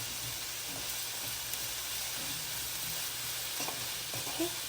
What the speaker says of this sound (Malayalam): ഒന്ന് സവോള വഴണ്ട് കിട്ടാൻ കുറച്ച് ഉപ്പ് കൂടി ചേർത്ത് ഒന്ന് വഴറ്റി കൊടുക്കാം.